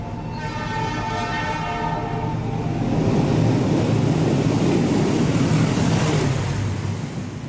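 The Fajar Utama Yogyakarta train rumbles loudly past while a sustained horn blares at the start, then fades into steady rolling wheel noise.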